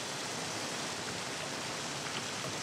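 Steady, even rain hisses with no breaks or voices, a soft continuous wash of falling water.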